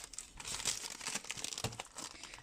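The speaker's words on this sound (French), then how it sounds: "je le remets dans son papier d'emballage pour ne pas l'abîmer" Wrapping paper crinkling and rustling as an item from a scrapbooking supply haul is wrapped back up, soft, close and irregular, with no speech.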